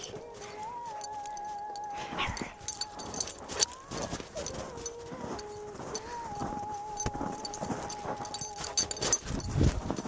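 A dog whimpering and whining outdoors on a snowy hike, with high thin whines that rise and fall over several seconds, mixed with jingling and faint background noise.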